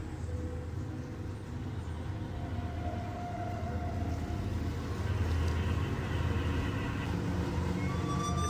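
Faint wailing sirens heard from a boat at sea rise and fall over a steady low rumble of engine or water noise, distant and continuous throughout.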